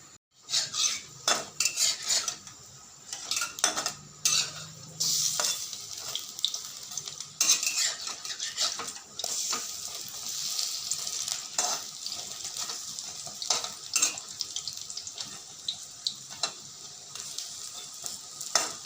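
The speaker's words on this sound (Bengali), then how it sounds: "এখন বড়া ভাজি" Bora fritters frying slowly over low gas in a pan, with a continuous crackling sizzle broken by frequent clinks and scrapes of a utensil against the pan, close and fairly loud throughout with no talking.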